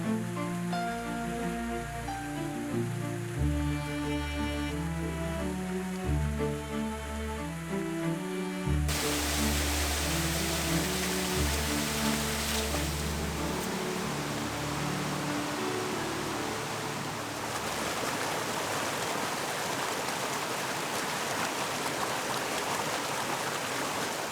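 A waterfall at an autumn photography location roars as a steady, broad rush of water, with background music heard early and then the water noise continuing alone.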